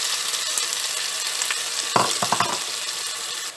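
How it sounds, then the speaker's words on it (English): Ground masala for a Coorgi pork curry frying on a slow fire in a pan, giving a steady soft sizzle, broken midway by a few quick stirring scrapes. "And fry it on slow fire."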